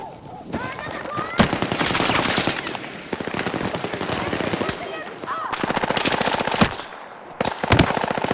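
Rapid machine-gun bursts and single gunshots crackle through a Battlefield 6 battle, loud and nearly continuous with brief gaps, while shouted voices come through under the firing.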